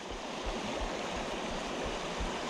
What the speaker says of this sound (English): got waves coming in